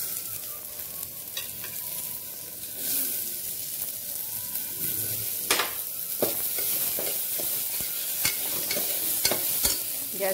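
Onions and tomatoes fry in ghee while being stirred, a continuous sizzle broken by repeated sharp scrapes and taps of a spoon against the pan.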